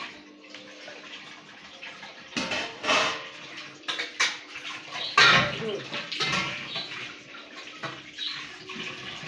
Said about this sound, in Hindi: मम्मी बहुत टाइम के बाद बर्तन मांज रही है